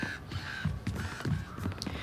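Crows caw in the survival-horror game Tormented Souls 2, several harsh rasping calls repeating in a loose rhythm over a low ambient drone, fairly close and moderately loud.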